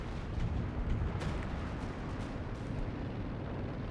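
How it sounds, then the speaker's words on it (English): Artillery barrage in Company of Heroes 2, a dense continuous rumble of distant explosions with a few sharper bursts, steady and moderately loud throughout. "artillery support's coming down on it"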